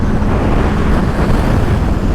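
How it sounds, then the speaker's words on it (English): Heavy, steady wind roar buffets the microphone while riding a 2022 Yamaha MT-07 motorcycle with an Akrapovic exhaust on a New Mexico road, loud and continuous with no pauses. "Oh, windy."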